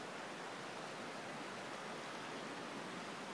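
Steady broadband rush of Horton Creek, a clear brown trout mountain stream on Arizona's Highline Trail, flowing continuously and evenly with no voices.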